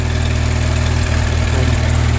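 A 1927 Farmall Regular tractor engine runs at a steady idle, loud and close, with a deep throbbing rumble and even pulsing throughout, no talking.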